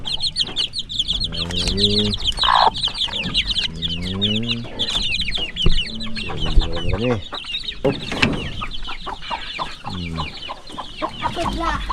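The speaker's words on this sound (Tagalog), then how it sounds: "Marami yung manok." A busy flock of chickens clucks and chatters close by, overlapping, with a rooster-like call breaking through and a brief spoken word.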